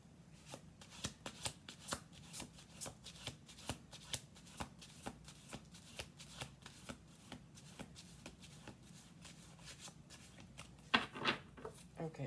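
Tarot cards being shuffled by hand, a steady run of crisp riffling snaps and soft slaps, close and fairly quiet, with a louder flurry near the end.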